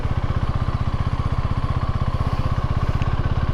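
A motorcycle engine running steadily nearby, with a fast, even, throbbing idle-like pulse and mechanical clatter throughout, loud and continuous with no talk.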